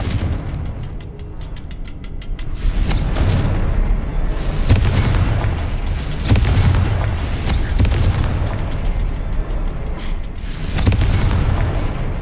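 Loud, repeated booming blasts from a Confringo spell in the Hogwarts Legacy video game, several heavy explosions rolling one after another over a dense, rumbling background.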